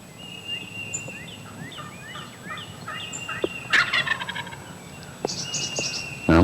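A wild turkey gobbles loudly at close range in open country, two rattling calls standing out over background bird chirps and whistles.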